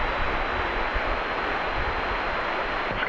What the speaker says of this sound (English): This is American Flight 71. It's a 787-8 arriving from Frankfurt